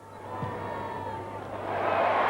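Australian football crowd at a 1998 Western Bulldogs match cheering a mark, a broad roar building from a murmur and swelling louder toward the end, heard from a distance under the broadcast.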